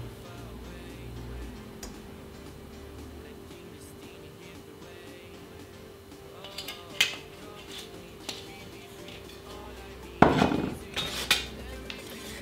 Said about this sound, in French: je vais allumer le feu sous ma poêle. Hop, je le mets à 7 sur 9 et j'ajoute un peu d'huile d'olive